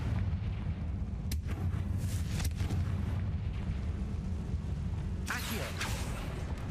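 Confringo, a fire spell in Hogwarts Legacy, bursts in a few sharp explosive blasts over a dense, continuous rumbling game soundscape.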